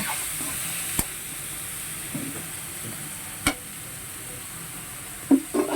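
Pansit bato noodles being stirred in a frying pan for ginisang pansit bato, with a steady soft sizzle broken by a few sharp utensil clicks against the pan and a short clatter near the end.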